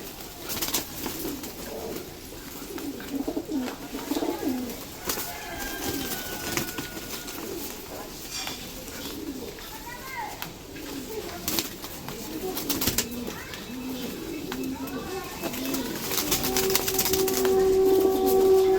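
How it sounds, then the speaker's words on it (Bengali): Flying tournament pigeons coo softly in a loft, repeated low murmuring calls over faint background noise with a brief distant whistle-like tone near the end. "এই হচ্ছে আমার একটা সিনিয়র পায়রা"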